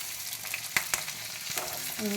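Chopped ingredients, including green chili, dropped into hot oil for bajji sizzle steadily and close up, with a couple of sharp stirring clicks and no talk.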